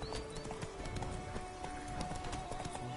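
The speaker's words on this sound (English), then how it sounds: "Whoa there, Roach." Horse hooves trot with a quick, even clip-clop rhythm in the Witcher 3 game world, close and steady over a faint background hum.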